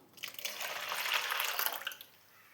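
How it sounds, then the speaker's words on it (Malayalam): Water pours into ground rice batter in a steady splashing stream for about two seconds, then trails off into quiet. "ഇപ്പം നമ്മൾ അരി അരച്ച് കൊണ്ടുവന്നിട്ട് അതിന് പാകത്തിനുള്ള വെള്ളം ഒഴിച്ച് കൊടുത്ത്"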